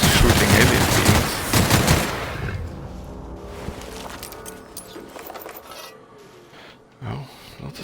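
Gunfire aimed at alien creatures in the video game The Outer Worlds: a dense, loud burst of rapid shots in the opening two seconds, fading into a quieter, rumbling tail with a last brief thump near the end.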